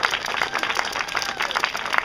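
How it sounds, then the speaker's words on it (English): Audience applause at an outdoor Renaissance faire theatre performance, steady dense clapping from a crowd filling the whole moment, fairly close and without talk. "a round of highly deserved applause"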